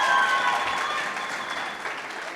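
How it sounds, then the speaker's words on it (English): Audience applause at a university campus student council inauguration ceremony, a steady round of clapping from a seated crowd that holds for a couple of seconds and slowly eases off. "One round of applause is more than enough."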